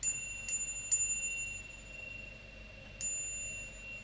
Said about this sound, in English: now you should be able to hear the sound of the bell